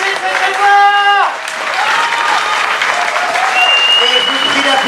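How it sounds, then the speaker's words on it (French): Audience at an improv theatre festival clapping for the performers. The applause is loud and sustained, with voices calling out over it. "on se lève, on les applaudit, allez"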